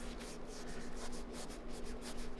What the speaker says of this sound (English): hit the shoe up with some acetone or nail polish remover, whatever you have